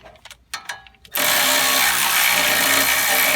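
A cordless ratchet driving a 3/8 ratchet through a 1/2-inch adapter works a rusted upper control arm bolt on a 2008 Hummer H3, starting after a few light clicks and then whirring loud and steady to the end.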